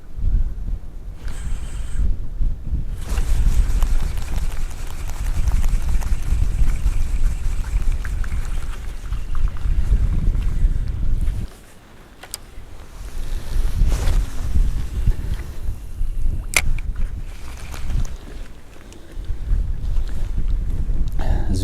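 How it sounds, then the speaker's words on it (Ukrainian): Strong crosswind buffets the microphone on a shore while spinning for fish, in heavy, continuous low rumbling gusts, with a brief lull midway before the roaring resumes. "дійсно боковий вітер сьогодні заважатиме ой дуже сильно"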